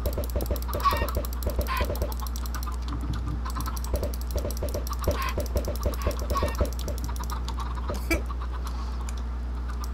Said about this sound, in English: I'm just spawning eggs. Chickens everywhere now.